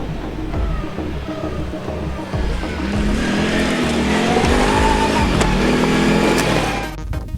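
A Can-Am Outlander Max ATV pulls away, its engine revving and climbing in pitch through several loud, close accelerations.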